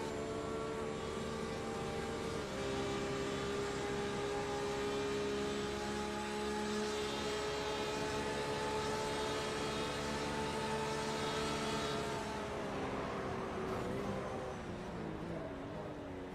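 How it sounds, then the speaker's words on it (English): GTE race car in a Daytona sim racing game, a steady loud engine drone with harmonic whine that shifts near the end as the car makes contact and brakes hard, pitch dropping through downshifts. "you're going to hear the contact, and then you're going to hear that Massey tries to stop the car as quickly as possible"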